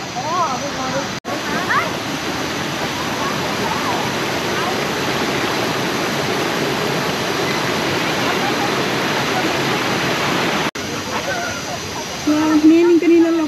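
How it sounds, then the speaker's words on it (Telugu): A large waterfall roars in a continuous, loud broadband rush close by, with people's voices heard over it near the end. "చాలా పెద్ద వాటర్ ఫాల్ ఇది"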